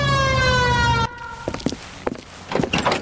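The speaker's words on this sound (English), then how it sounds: "Hit the siren." A police car siren in the L.A. Noire video game wails loudly as a steady tonal howl, then cuts off abruptly about a third of the way in, giving way to game sound effects and brief knocks.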